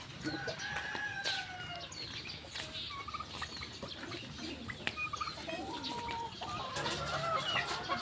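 Several Dekalb chickens cluck and squawk continuously nearby, with occasional louder calls and a crow-like cry amid background farmyard noise.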